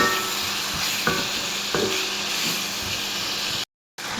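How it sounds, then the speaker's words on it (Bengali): Ground shrimp frying in a pan make a close, steady sizzle with occasional stirring scrapes, and a brief silent gap near the end. "চিংড়ি মাছ আমি কিছুক্ষণ একটু ভেজে নিব।"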